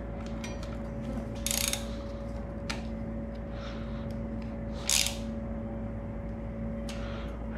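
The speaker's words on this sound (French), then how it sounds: "on va visser ça, espérons que ça tienne bien avec une vis." A screw being driven and tightened into a motorcycle part with a ratcheting hand tool: quiet repeated clicking ratchet strokes with a few sharper bursts over a steady background hum, no talking.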